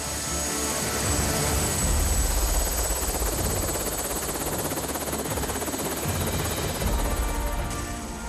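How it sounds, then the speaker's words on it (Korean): Mountain rescue helicopter landing to hand a patient to a waiting ambulance, its dense rotor and turbine roar loud and steady throughout, close by with no talk. "헬기가 지상에 도착하면 기다리고 있던 구급차로 환자를 옮긴다."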